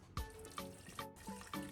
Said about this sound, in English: The liquid pours slowly into a separate container,